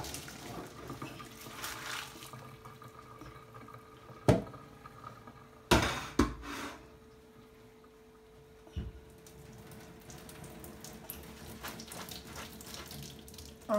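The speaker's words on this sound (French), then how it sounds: "donc là je vais égoutter les pâtes" Cooked spaghetti is drained in a kitchen sink, with water rushing and splashing, a few loud clunks of the pot against the basin, then a quieter trickle as the pasta drains.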